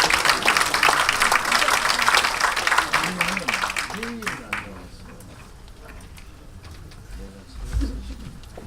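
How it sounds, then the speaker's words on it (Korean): Members of a party caucus meeting in the Korean National Assembly clap loudly together, the applause fading out after a few seconds into a quiet room with brief voices and shuffling. "여러분, 그래도 신임 대표님께 우리 큰 박수로 격려와 인사"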